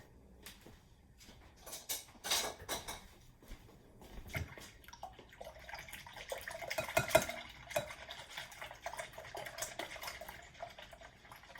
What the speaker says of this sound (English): Let me get my whisk.